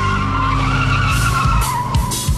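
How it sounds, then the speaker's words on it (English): Jaguar E-type XKE on a race track, with loud tire skidding and squealing over a steady engine roar, a few sharp bursts of squeal near the end. "the opportunity to run the XKE on a track is irresistible."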